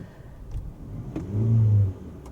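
A 2006 Toyota Camry 2.4L engine with a hesitation problem gives a brief rev, rising to a low rumble and dropping back, with a few faint clicks around it.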